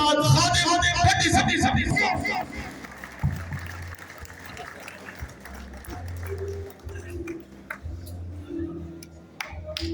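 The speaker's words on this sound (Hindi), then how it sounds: "आप सबकी भरपूर तालियों उस्ताद" Dense crowd applause at a pigeon-racing prize-giving ceremony in Pakistan, loud and full at the start, then thinning into scattered claps under a speaking voice and a low steady hum.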